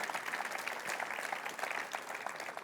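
A church congregation applauds in a steady, dense patter of many hands, moderately loud and continuous throughout, with no voices over it.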